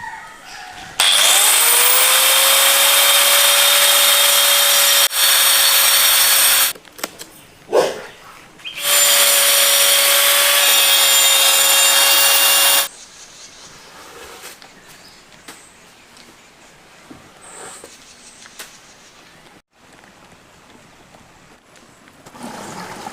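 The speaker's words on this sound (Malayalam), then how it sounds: "ഇനി ഇതാണ്ടോ ഈ ഒരു സുന്ദരമായ മുട്ട നമുക്ക് കട്ട് ചെയ്തെടുക്കണം" A rotary power tool cuts through an eggshell for a craft planter, its loud high-pitched whine running in two long bursts with a brief pause between, followed by quieter handling noise.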